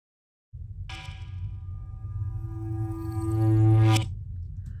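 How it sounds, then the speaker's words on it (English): A single sustained metallic hit rings out with a low drone beneath, swelling slightly before cutting off abruptly, heavy with reverb. "I found like a percussion type of hit."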